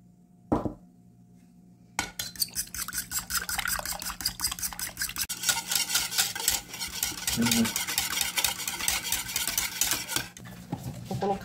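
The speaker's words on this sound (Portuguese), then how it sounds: "já vou bater os ovos" Eggs are beaten in a bowl with a fast, steady rhythmic clatter that runs for about eight seconds after a brief knock and a quiet pause. The beating is close and fairly loud, with a short softer stretch near the end.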